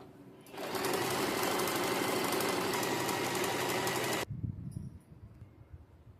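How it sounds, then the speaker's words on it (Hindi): Sewing machine stitching Patiala salwar fabric, running in one continuous fast whirring burst for about four seconds at close range, then stopping abruptly with a few quieter handling sounds after. "अभी मैं आपको सिल के दिखाती हूँ। देखो इस तरह से पकड़ना है, ऐसे सिलना है।"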